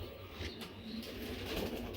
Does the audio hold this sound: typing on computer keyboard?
no